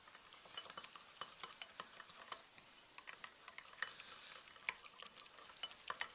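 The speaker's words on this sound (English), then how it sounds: "Alright, I'm just going to whisk that together." Cocoa powder and dry ingredients whisked together in a bowl, giving a quiet, rapid run of light ticking and scraping strokes, close but faint.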